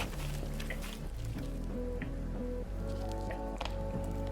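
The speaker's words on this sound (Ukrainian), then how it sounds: "замішуємо тісто. Виходить ось таке легке, не густе тісто, вимішуємо його 10 хвилин." Soft, wet dough for chocolate Easter paska bread being kneaded, repeated quiet squishing and slapping in an irregular rhythm against a low steady hum, close and faint.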